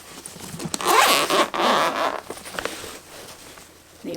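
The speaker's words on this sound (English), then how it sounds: "This one has a catch and a zip." Zipper on a violin case pulled open in one long continuous run, a close, scratchy rasp that pauses briefly and resumes, with no talking over it.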